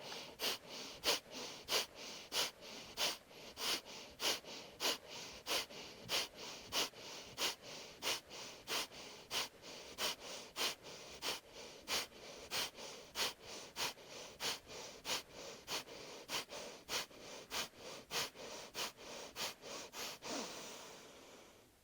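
Rapid, forceful bellows breathing of Bhastrika pranayama, with sharp rhythmic nasal exhales and inhales in a steady pulse of about two per second for over twenty seconds, close and alone without talk.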